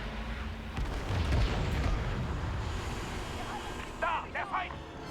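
Heavy cannon booms and explosion rumble from the Star Wars Battlefront 2 battle, several thumping blasts in the first seconds with dense noisy battle din throughout and voices speaking over it.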